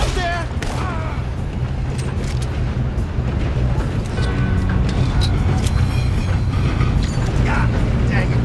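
Moving train in Red Dead Redemption 2 during a train robbery, a steady loud low rumble and clatter of rolling wagons throughout, with sharp gunshot cracks and voices in the game over it.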